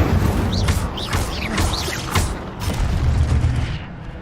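The Incendio fire spell is cast in a video game, producing loud booming bursts and a rushing fiery crackle with several rapid whooshes, close and filling, then trailing off.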